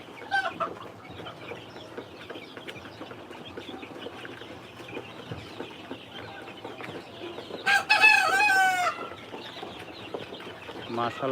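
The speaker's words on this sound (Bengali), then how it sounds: "এটা অরিজিনাল টাইগার মুরগির বাচ্চা এটা" Tiger breed chicks about fifteen days old cluck and cheep at a poultry trading spot, a busy flock murmur throughout with a louder burst of calls near the end.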